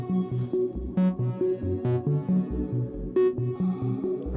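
Techno synth stabs play a choppy, bouncing pattern of short notes with crisp attack transients, each followed by a slightly delayed reverb tail that blooms after the initial hit.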